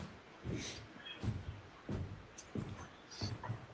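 A dog whimpers indoors in a house, giving about six soft, short whines at a fairly regular pace, close by but quiet, with no one talking.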